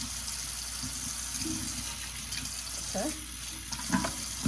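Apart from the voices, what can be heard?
water rinsing hair from a tap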